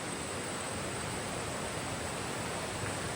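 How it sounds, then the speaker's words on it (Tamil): Steady broadband rush of Meenmutty Falls, a waterfall in Kerala, close by and loud, a continuous roar with no break and no voices. "பக்கத்துலேயே அருவி."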